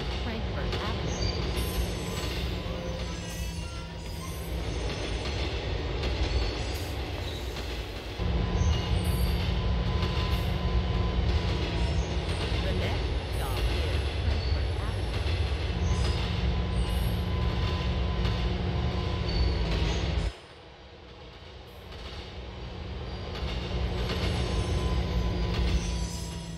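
Subway train in GTA IV rumbling along the tracks with steady low rolling noise and clatter, wheels squealing at times, a sudden drop in loudness as it passes through a changing section before the roar builds back up, with an announcement voice over it.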